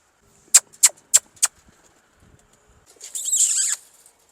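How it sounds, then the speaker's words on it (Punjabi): Pigeons kept at a rural dera give four sharp, evenly spaced wing claps close by, followed by a short burst of flapping and fluttering; no one speaks. "ਹੁਣ ਤੁਹਾਨੂੰ ਕਬੂਤਰ ਵੀ ਵਿਖਾਉਂਦੇ ਹਾਂ ਜੀ ਆਪਣੇ"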